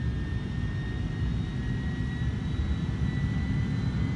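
Jet engines on an airliner in Flight Simulator 2024 drone in a steady, even roar with a faint high whine as the throttle is advanced, continuous and without voices.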